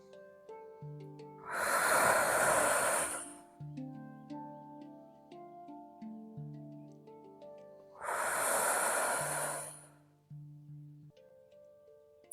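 Two long, loud, breathy exhalations several seconds apart during a yoga exercise for abdominal diastasis, with soft melodic music playing underneath throughout.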